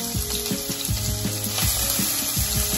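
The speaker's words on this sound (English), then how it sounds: "Saute my onions up a little bit, just a little bit." Chopped onions sautéing in a pan, a loud close hiss with repeated clicks and taps of the spoon against the pan while they are stirred.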